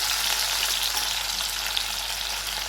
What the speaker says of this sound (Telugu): పోపులోకి ఈ విధంగా కొంచెంగా దాల్చిన చెక్క, లవంగాలు వేసుకొని మనము ముందుగానే తరిగి పెట్టుకున్నటువంటి ఉల్లిపాయ